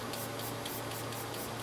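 Makeup setting spray mists onto a face in a soft, steady hiss with faint repeated pumping pulses, quiet and close, with no talking.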